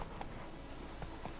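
A horse gallops in The Witcher 3, its hoofbeats faint and steady over a soft constant background hum.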